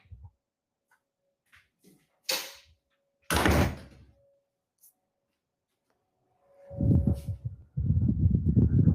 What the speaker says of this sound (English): Give me a second to close the door.